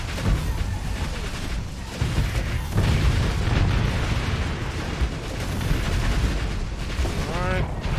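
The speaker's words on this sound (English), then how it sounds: "Let's fire some missiles in there" Space combat in Starsector, missiles launched and exploding in a continuous rumble of booms and bursts, with someone talking over the din.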